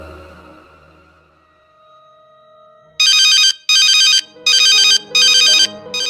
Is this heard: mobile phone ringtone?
yes